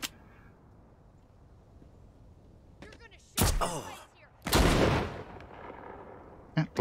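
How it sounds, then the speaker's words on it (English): Two loud, close gunshots burst out a second apart during blind firing in the VR zombie game The Walking Dead: Saints & Sinners. Each shot booms and then decays, with quieter handling clicks around them. "Yeah, blind firing works."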